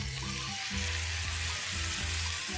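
Water is poured into a hot pan of pork menudo, producing a steady rushing pour over a continuous sizzle, close and fairly quiet.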